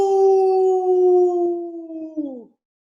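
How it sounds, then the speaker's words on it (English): A drawn-out wolf howl sound effect for a read-aloud children's story, one loud sustained tonal cry lasting over two seconds before dipping and cutting off, heard alone without talk. "Cody let out a howl"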